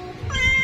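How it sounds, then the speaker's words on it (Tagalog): A cat waiting near fish being cooked gives one short, close meow that rises and then falls in pitch. "Itong pusa naman to, nag-aabang na."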